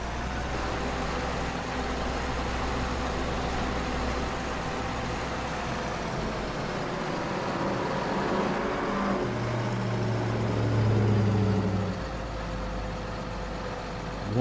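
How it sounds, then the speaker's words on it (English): A truck with a loud exhaust that needs a muffler drones low and steady in a nearby neighborhood, swelling briefly louder partway through, behind the sound of a farming video game. "One truck in the neighborhood needs a muffler."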